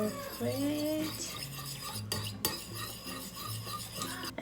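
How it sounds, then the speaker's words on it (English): Soured milk made from 2% milk and vinegar being mixed, with soft, quiet stirring and light clinks of a utensil against the bowl, close and faint under a low background hum. "I'm gonna mix it a little bit."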